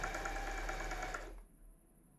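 A sewing machine stitches cosplay fabric in a steady, fast mechanical whir for just over a second, then stops, leaving a quiet room.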